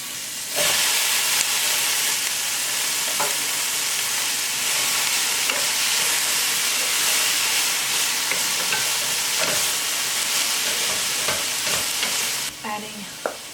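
Halved cherry tomatoes fry in a hot pan with a loud, steady sizzle and hiss, broken now and then by stirring clinks, and no talk.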